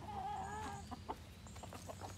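Chickens clucking close by in a backyard on a hot day, with short repeated clucks and soft calls over a steady low background hum.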